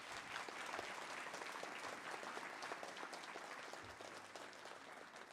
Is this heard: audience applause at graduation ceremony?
yes